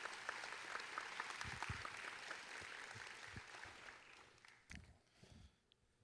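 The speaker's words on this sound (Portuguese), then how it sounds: "Então eu queria convidar você a receber o Dr. Michael com uma salva de palmas." A church congregation applauds to welcome Dr. Michael, with steady, fairly soft clapping that thins out and fades toward the end, leaving a few scattered claps and shuffling.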